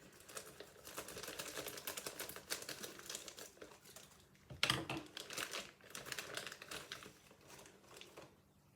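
Plastic bag holding the chuck key for a Record Power SC3 wood chuck being opened, with close, quiet crinkling and rustling in irregular bursts and one sharper crackle midway.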